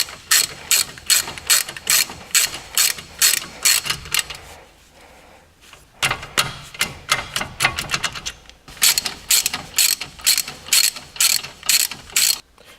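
A ratchet tightens brake caliper bolts on a Golf Touran, producing rapid, close, crisp clicking bursts in rhythmic strokes, with one brief pause midway before the ratcheting resumes.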